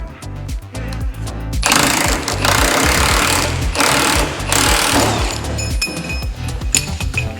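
A puller cranked hard against a corroded car part during subframe and gas tank removal, heard as a loud, continuous, rapid mechanical hammering and rattling close by, preceded by a few quieter clicks.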